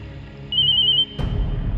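A phone ringtone chirps with a steady high tone for about half a second, then a louder rustle or thump follows over a low background hum.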